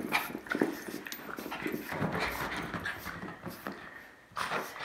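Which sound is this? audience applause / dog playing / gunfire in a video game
dog playing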